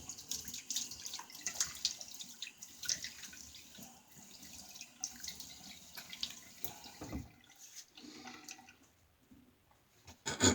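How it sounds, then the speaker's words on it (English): Tap water runs faintly during a rinse after a shave, a soft, uneven stream with small splashes and drips and no voice over it. "let me get a quick rinse here"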